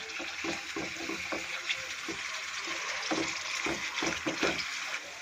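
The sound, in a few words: spice masala with ginger and garlic frying in a pan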